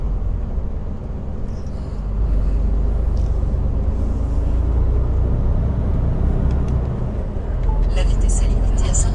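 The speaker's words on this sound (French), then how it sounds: "on va avoir beaucoup de camions" Heavy trucks on the A1 motorway at night roll past steadily, a continuous low rumble of engines and tyres with swells as vehicles pass.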